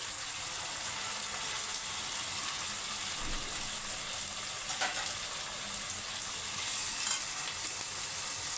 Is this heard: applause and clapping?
no